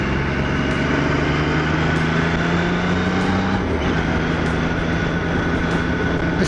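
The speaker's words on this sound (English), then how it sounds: "I'm on the new bike, the Triumph Trophy 900" A Triumph Trophy 900 motorcycle is ridden along a road, its engine droning steadily under heavy wind rush, with a brief shift in pitch midway.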